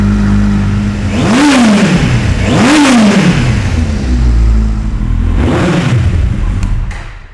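A Kawasaki Z800 motorcycle engine revs up sharply three times close by, each rise and fall clearly separated, over a steady, smooth idle.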